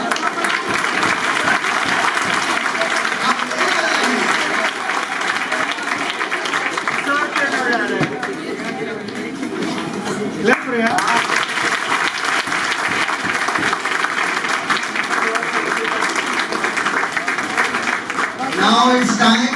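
Students at a coaching institute clapping during a test series results announcement, loud, continuous crowd applause that carries on throughout, with a voice speaking over it.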